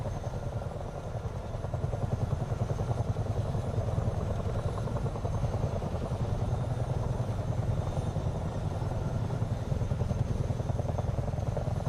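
Chinook helicopter engines spooling up in Microsoft Flight Simulator 2024, a steady, moderately loud turbine drone with a rapid rhythmic rotor chop running evenly throughout.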